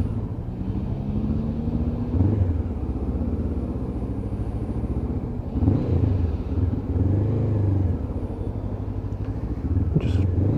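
A Honda CB500 motorcycle pulls off hard, its engine note rising in a steady, loud rumble that holds for several seconds with another surge of revs midway, close to the listener.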